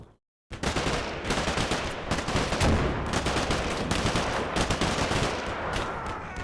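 Sustained gunfire from an infantry firefight in the Combat Mission Black Sea war game, dense overlapping rifle and machine-gun bursts cracking loudly and continuously after a brief silent start, no talking.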